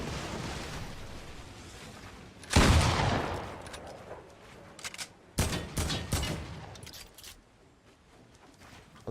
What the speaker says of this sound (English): God, this gun's so good for pressuring people.